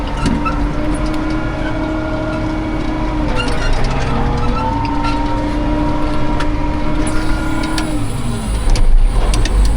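A tractor engine running steadily as it pulls out while hauling manure, a loud, continuous mechanical hum with rising tones, growing heavier near the end.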